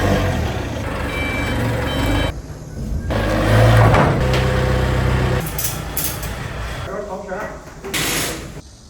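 Backhoe moving during loading into a shipping container, with a steady high reversing beep over loud engine rumble and clanking mechanical noise, the machine close and continuous throughout.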